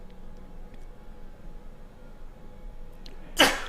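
A single sharp sneeze bursts out at the very end after a few seconds of quiet room tone.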